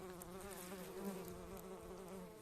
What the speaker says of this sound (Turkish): Bombu sarısı görüyorsunuz. Burada yuva yapmış.